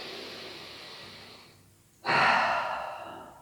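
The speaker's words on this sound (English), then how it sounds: "Let's take one big breath here." One deep breath during a gentle yoga class: a long, soft exhale that tapers off, a brief pause, then a strong, full inhale through the nose, close and clear with no talking.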